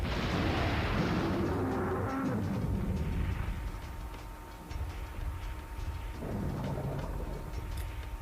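Cannon fire in the video game Dino Crisis 2: deep rumbling booms roll out with a muffled, distant quality and fade beneath a low continuous roar, with a second swell of rumble later.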